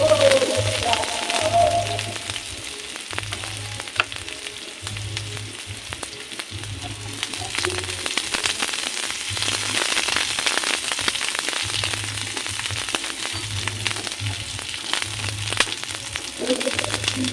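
Onions fry for squid adobo in a hot pan, giving a loud, dense, continuous sizzle with crackling spits. A low hum pulses on and off beneath it, and faint voices occasionally sound in the background.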